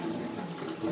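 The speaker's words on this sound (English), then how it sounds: "and all the air is going to gargle out." Air gurgling and bubbling out of water-filled pipes in a pump room, a steady close watery churn running unbroken for the whole second with no talk.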